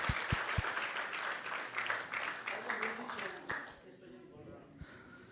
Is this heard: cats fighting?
no